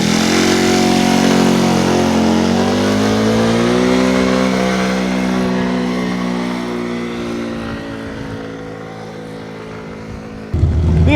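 A Jinlun JL50QT-5 Chinese 50cc scooter engine drones through a ride, its pitch rising and then sinking as the revs drop, loud and close, ending in a sudden knock.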